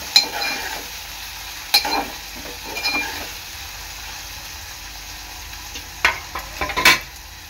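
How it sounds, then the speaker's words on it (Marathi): Onion and tomato fry in a pan for a brinjal bharit, a soft background sizzle broken by intermittent scraping and clinks of a spoon stirring against the pan. "आता मी याच्यात टाकणार आहे टोमॅटो, कांदा टोमॅटो चांगला एकजीव करून घेणार आहे"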